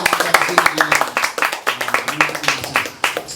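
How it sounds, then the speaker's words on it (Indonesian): Brief applause from an audience at a student arts performance gathering, scattered claps mixed with a speaking voice throughout, fairly close and uneven. "Tepuk tangan sekali lagi para hadirin."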